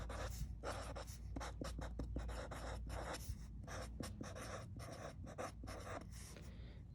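Pen scratching on paper while a story is written by hand, with quick strokes and short pauses between them, close and fairly quiet over a low steady room hum.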